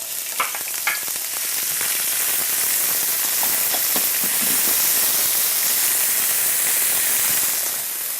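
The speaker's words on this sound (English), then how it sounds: "And first, our 1 cup of chopped leeks." One cup of chopped leeks sizzles in two tablespoons of hot oil in a pan preheated to medium-high, a loud, steady frying crackle with a few scattered clicks and pops from stirring.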